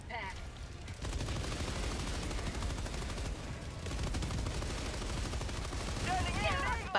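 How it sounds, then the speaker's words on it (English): Sustained machine gun fire rattles steadily while a player hovers on a jump pack in Helldivers 2. The dense, loud barrage barely lets up, with brief voice-like tones near the end. "you can hover and shoot in the sky with a machine gun"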